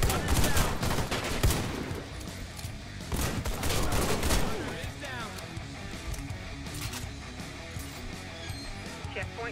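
Rapid gunfire from the shooter game Warface crackles in dense bursts and fusillades, loud and close, with a voice talking over parts of it.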